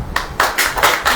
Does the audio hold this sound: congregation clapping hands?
yes